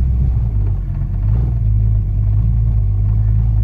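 A Ford Fox Body car with an automatic transmission and Terminator X fuel injection idling, a deep, loud, steady low rumble heard up close, with a slight rise and settle in engine note.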